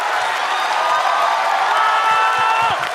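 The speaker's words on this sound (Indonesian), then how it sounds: "Beri tepuk tangan sekali lagi untuk Ratanca." A stand-up comedy show audience cheers and applauds a young comedian, a dense, steady roar of crowd noise with whoops and clapping sustained throughout at close, loud level.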